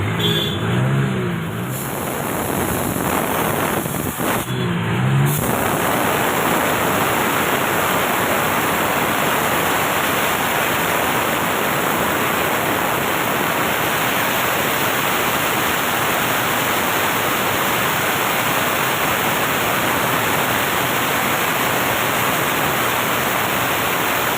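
A repaired oil pump runs while being tested in water, a steady loud churning hiss and rushing flow that holds unbroken for the whole stretch after a brief start.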